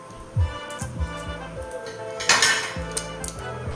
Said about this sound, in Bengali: দিয়ে আগে সুজিটা আমি রোস্ট করে নিচ্ছি